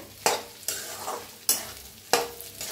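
Soaked sabudana is mixed and roasted in a pan for sabudana khichdi with potato and green chillies. Four sharp, close spatula strokes each trail off into a brief sizzle.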